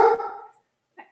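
A Doberman lets out one loud, close bark that rings and fades, then gives a brief, quieter second yelp a moment later, with no voices.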